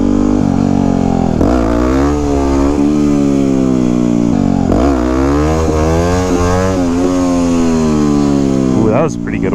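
A Yamaha WR250X motorcycle engine revs hard through a wheelie, its pitch climbing and dropping in repeated sweeps, loud and close with steady wind rush behind it.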